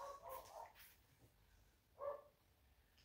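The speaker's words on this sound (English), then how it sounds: "Excuse the dogs barking." Two faint, distant dog barks, the first a short cluster and the second a single bark about a second and a half later, in a quiet setting.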